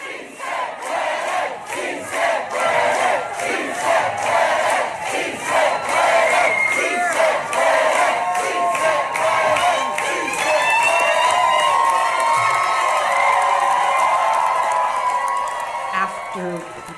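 Crowd cheering and shouting at an election night party in Queens, a loud, sustained roar of voices with whoops and scattered applause swelling and holding throughout.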